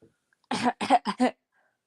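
Four sharp, explosive sneezes in quick succession, close and loud, with silence before and after.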